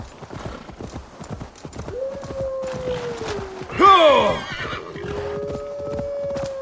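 A horse in the Assassin's Creed Valhalla video game clip-clops steadily along, gives a long whinny, then a sharp loud neigh, and whinnies again as the hooves keep going.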